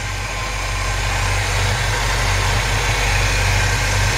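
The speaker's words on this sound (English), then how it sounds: "just listen to the engine just purr" The engine of a 1955 Chevy 3100 shortbed pickup idles smoothly and steadily, a loud, close, low rumbling purr with an even beat and no voices.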